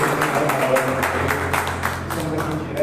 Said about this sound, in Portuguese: Vamos por primeiro para aquela linda salva de palmas